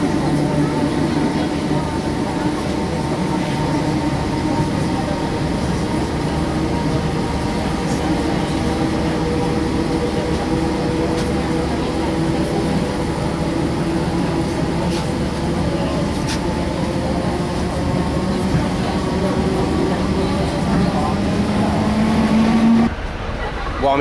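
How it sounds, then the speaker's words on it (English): A train rolls into Liverpool Lime Street station with a continuous rumbling drone and a long tonal whine that rises near the end, loud and close, with talking over it. "the train is just on its way in now"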